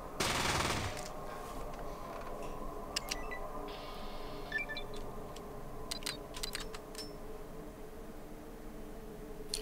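A submachine gun in the game Fallout 1 lets off one loud, close burst of rapid fire at the start, followed by scattered faint clicks and ticks over a low background hum.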